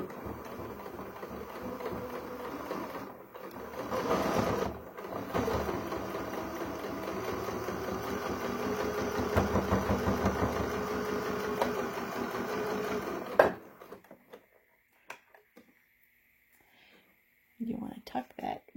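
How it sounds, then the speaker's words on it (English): A sewing machine runs a single stitch all the way around a piece of fabric, its steady mechanical whir continuous for about thirteen seconds under a speaking voice, then stops abruptly and leaves near silence. "now we are going to run it through the sewing machine"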